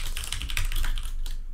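Computer keyboard typing with rapid, close clicks running steadily through the moment, no voices over it.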